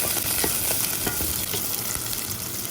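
Garlic and beef trimmings sizzle steadily in a hot pan for a zucchini stir-fry, with a spatula stirring through them in scraping strokes; the frying is loud, close and continuous, with no talking.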